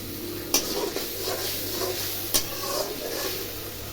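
Food frying in a pan is stirred, the soft scraping and sizzle punctuated by two sharp clinks of the utensil against the pan, close and moderately quiet with no talking.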